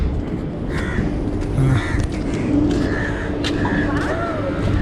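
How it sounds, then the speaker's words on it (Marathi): Crows caw in a Mumbai seaside park, several rough calls scattered over a few seconds at moderate distance, set against a dense outdoor wash of crowd murmur and ambient noise. "इथे ह्या साईडला कावळे आहेत"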